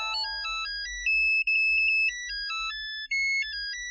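A bright electronic phone ringtone plays a quick, repeating melody of clear beeping tones, close and steady.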